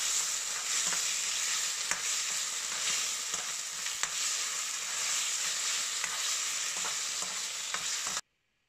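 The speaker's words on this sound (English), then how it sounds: "slide the kidney slices in, and quickly stir fry them for 30 to 45 seconds" Kidney slices stir-fried in hot oil in a wok over high heat: a steady, bright sizzle runs throughout with occasional clinks of stirring, then it cuts off abruptly near the end.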